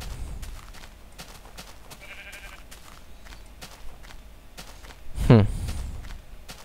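A sheep in Minecraft lets out a single short bleat near the end, clear and close, over quiet game ambience with soft footsteps.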